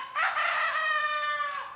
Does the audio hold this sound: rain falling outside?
no